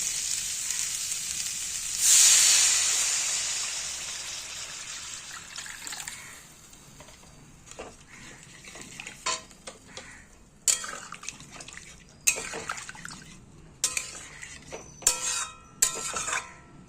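Water is poured into fried spice paste in a pan for a katla fish curry with potato and cauliflower, setting off a loud surging hiss that settles into softer bubbling, with sharp bursts of sizzle and clatter later.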